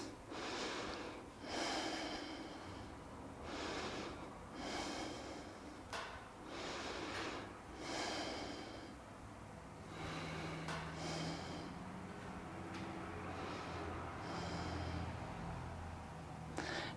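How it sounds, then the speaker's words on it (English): Deep, slow breaths during a home vinyasa yoga practice, with a steady rhythm of loud, close inhales and exhales through the nose, some sharp and snort-like, repeating for the whole stretch with no talking. "Breathe."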